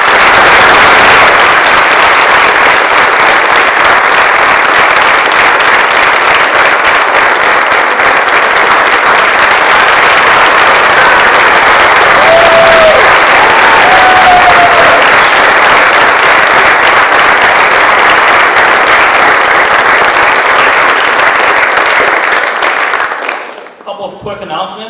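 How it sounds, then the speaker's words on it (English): Sustained applause from an audience honoring students committing to military service at a high school ceremony, steady and loud throughout before cutting off at the end. "Let's give them one last round of applause."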